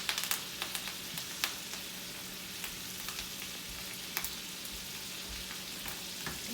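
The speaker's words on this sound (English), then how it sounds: "Roughly around this steak should take around 2 minutes each side" Steak fries in melted butter in a pan, giving a soft, steady sizzle with scattered small pops and crackles. It stays fairly quiet throughout, with no talking.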